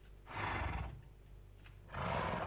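Horse neighing from the Minecraft video game, two drawn-out whinnies separated by a short pause, fairly clear and close with no talking.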